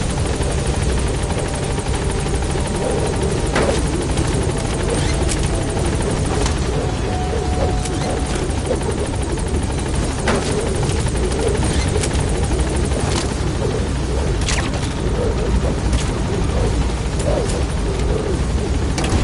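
The Pequod helicopter in Metal Gear Solid V drones loudly and continuously as a dense rotor roar, with faint mechanical clicks and thumps scattered over the steady wash throughout.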